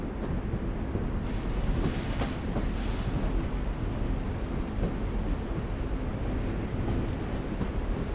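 A continuous low train rumble from a video game, with a heavy, steady rolling drone, briefly joined by a brighter hiss partway through.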